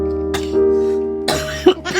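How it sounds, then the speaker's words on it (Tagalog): A short cough bursts out amid a quiet background hum with a sustained tone, followed by a second throat sound; nothing is spoken. "Bakit nauubo ka kung masarap?"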